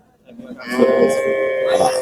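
A dairy cow, a Jersey-type milking cow with calf, lows at a crowded cattle market in Tangail, a long drawn moo rising over a steady hum of market noise and nearby voices.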